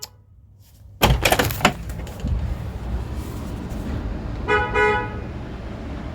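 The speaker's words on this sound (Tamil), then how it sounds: "எவன்டா அது ஹார்ன் அடிக்கிறது?" A car horn honks in a short burst amid street traffic noise, followed by a rattling thump and another brief horn toot, loud and close with no talking.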